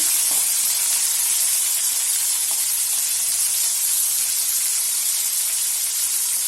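Tomatoes and salt hit hot oil with onions in a kadai for kadai paneer, giving a loud, continuous sizzling hiss that holds steady without pause.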